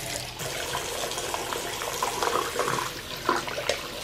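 A dirty vacuum filter is rinsed under a running tap, giving steady splashing water flow with small spatter bursts, close and fairly quiet, with no talking.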